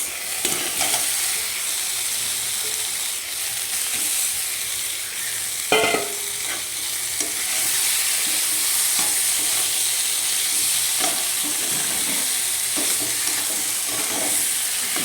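Hilsa fish sautéing in a pan with mustard and poppy seed, a loud steady sizzle throughout, with one short clatter of a stirring utensil and faint scrapes; no talking.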